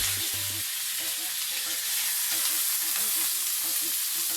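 Pork loin sizzles in olive oil in a hot frying pan, a steady bright hiss running throughout with faint clinks and low background hum, no talk over it.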